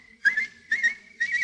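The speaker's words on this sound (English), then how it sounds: "Why do you keep whistling like that?" Someone whistles for help in an old-time radio Sherlock Holmes drama, giving three short, clear, high-pitched whistle bursts with brief gaps between them, close and alone.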